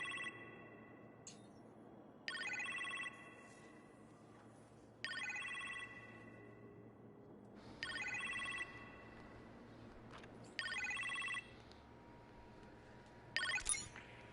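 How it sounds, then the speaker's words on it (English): A telephone rings in a kitchen in the Iron Man VR game, four separate bursts of bright electronic ringing spaced a few seconds apart over a low ambient hum, with a short chirp near the end. "You appear to have a phone call in the kitchen"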